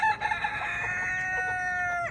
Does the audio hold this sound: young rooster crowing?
yes